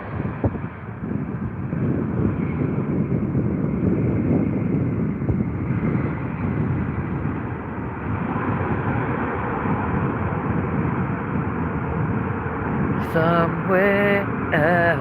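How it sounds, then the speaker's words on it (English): A Lufthansa wide-body airliner at Heathrow rumbles steadily in a broad, loud roar with wind buffeting the microphone throughout, while a brief burst of music or tonal sound enters near the end. "Yet again, in the original and best livery, it's Lufthansa from Germany."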